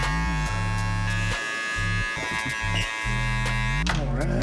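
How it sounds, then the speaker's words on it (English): Electric hair clippers fitted with a 1.5 guard cut hair in a taper at the temple, giving a close, steady buzz. The tone shifts with load and is broken by short gaps as the clipper is lifted and pressed back to the hair. "taking my clipper fully open, and I'm just kind of creating a nice taper down on the temple here"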